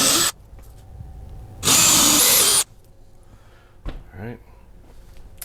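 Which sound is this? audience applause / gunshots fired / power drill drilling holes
power drill drilling holes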